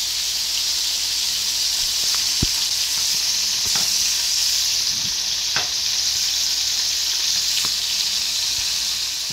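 Cauliflower florets frying in a pan of hot oil for dhaba-style cauliflower masala give a steady, close sizzle, with a few sharp clicks as pieces are turned and no talking.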